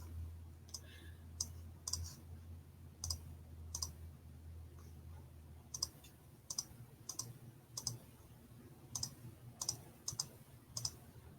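A computer mouse clicking in sharp, isolated clicks at an irregular pace, sometimes in quick pairs, close and fairly quiet over a low background hum.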